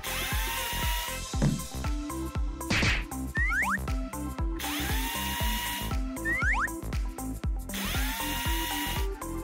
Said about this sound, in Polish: Ta wkrętarka świetnie działa.